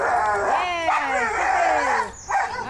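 A puppy barks and yips in quick, high-pitched bursts with whimpering tones during a game of fetch with a ball, close and loud, while people talk in the background.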